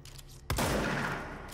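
Gunfire in the video game Control: a single sharp shot bursts in after a quiet start, then rolls into a sustained loud crackling decay, close and dominant with no voice over it.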